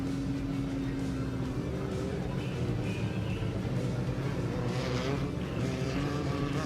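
A Porsche off-road race car pulls away from the ceremonial start line of a Baja rally stage, its engine droning loudly and steadily with a rising rev partway through, with crowd and ambient noise around it.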